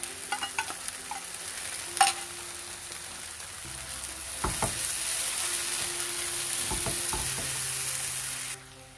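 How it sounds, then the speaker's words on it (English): Biryani masala gravy with onions frying in a pan for a veg kofta biryani, a steady loud sizzle with occasional stirring scrapes and clinks, no talking. "Now we'll add this gravy to this, the biryani masala gravy, whatever we prepared, because we have used all raw ingredients, so we'll just fry them a little bit"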